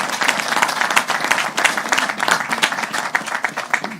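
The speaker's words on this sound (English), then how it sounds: "Let's give a round of applause." Dense applause from a crowd, many hands clapping steadily and fairly loud throughout with no pause.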